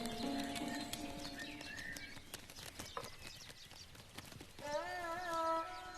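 Birds call and chirp near a wheat field in a rural setting, with bright tonal whistles scattered through the clip and a clearer rising call sequence near the end, over a busy background of clopping and rustling.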